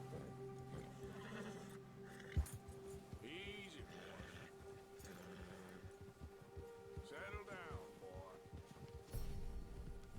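A horse neighs and whinnies in Red Dead Redemption 2 amid hooves clip-clopping, with a steady background hum and voices talking in between.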